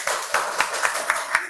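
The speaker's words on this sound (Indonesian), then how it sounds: "Tepuk tangan untuk kawannya dulu sayang." A small group of pupils claps in a primary school classroom, quick, fairly loud hand claps falling into a rough rhythmic beat of about six accented strikes.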